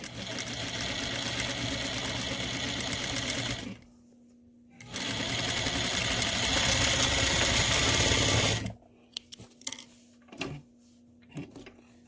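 A sewing machine basting down the pleats of a fabric face mask with a seam allowance just under 1/4 inch, running loudly in two steady bursts separated by a pause, then stopping with a few light handling clicks.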